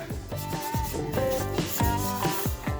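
Repeated back-and-forth rubbing strokes of a Scotch-Brite abrasive pad on sealed, spray-painted wood, with a squeaky, scratchy texture in a steady rhythm, close up.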